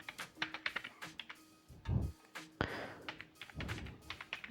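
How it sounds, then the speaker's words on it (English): Typing a search keyword on a computer keyboard: a close run of quick key taps with a few heavier thunks and pauses between bursts, fairly quiet and with no talk. "I just type something like prisoner"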